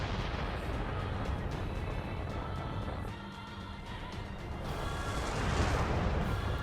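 A missile launch in NieR: Automata, with dense roaring rumble and bursts of blast noise that dip briefly midway and then swell again, loud and sustained without speech.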